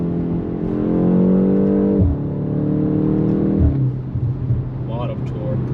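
A 2025 BMW M235 accelerates hard in sport mode with manual shifting, the engine note climbing in pitch through a gear, dropping at a shift, then pulling again under a loud cabin drone.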